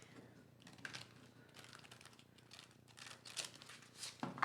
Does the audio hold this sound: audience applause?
no